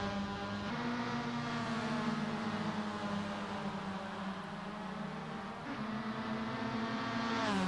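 At Tsukuba circuit, race car engines drone steadily at high revs with a sustained tonal whine, close and continuous, shifting pitch slightly as a car goes by near the end.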